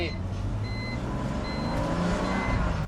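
Warning beeps from a BMW E46 330ci track car, a few short high-pitched tones sounding at intervals inside the cabin under a steady engine and road rumble, with a voice talking over it.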